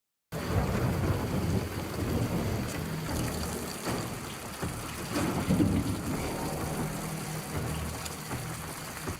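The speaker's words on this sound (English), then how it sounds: "Watch as the lightning strikes." A thunderstorm from a TV show episode: steady heavy rain pours on surfaces while deep thunder rumbles and cracks roll through, loud and enveloping after a brief silent start.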